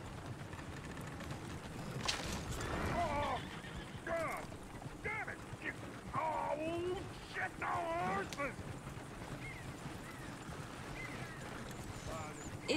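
A horse in the Red Dead Redemption 2 video game whinnies repeatedly over clopping hooves, several loud neighs rising and falling amid outdoor ambience, with voices talking faintly underneath.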